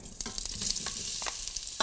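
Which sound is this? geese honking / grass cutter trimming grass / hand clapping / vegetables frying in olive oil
vegetables frying in olive oil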